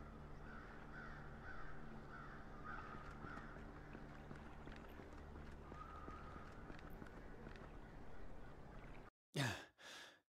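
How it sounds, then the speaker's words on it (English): Crows caw in the horror adventure game Saint Kotar, scattered calls over a quiet outdoor ambience with faint breathing and movement, ending in a short louder burst. "Crows. They are everywhere. At least a dozen circling above these finger-like rocks."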